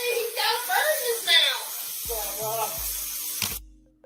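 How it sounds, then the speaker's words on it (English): A garden hose sprays down concrete floors, giving a steady broad hiss that runs throughout, with muffled voices talking in the background. "What this is a sound of Alec using the garden hose to spray down the floors"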